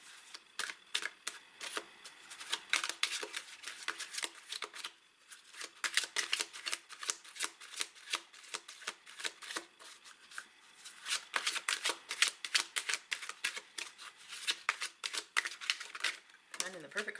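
Tarot-style cards shuffled by hand in quick, crisp riffling bursts, close and fairly soft, with a brief pause partway before the rapid flicking resumes.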